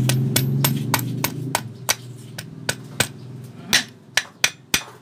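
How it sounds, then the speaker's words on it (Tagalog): A hammer taps a pin into a Honda TMX 125 Alpha motorcycle gearbox, with about fifteen sharp metallic knocks at an irregular, steady pace, growing louder toward the end over a low hum. "Pukpok natin ng konti."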